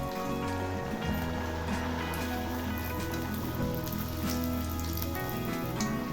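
Spinach puri frying in hot oil, a soft continuous bubbling sizzle at low level with faint background hum and no talk.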